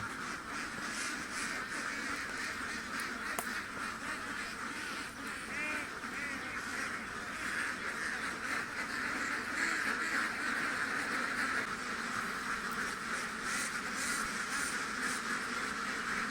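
A flock of ducks quacking continuously, many overlapping calls forming a busy, noisy chorus close by, with no talking.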